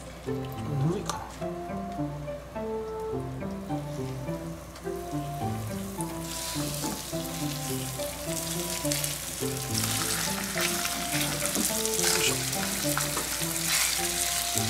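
Breaded cutlassfish fries in oil in a pan, giving a steady crackling sizzle that grows louder and brighter about halfway through, with a person talking over it.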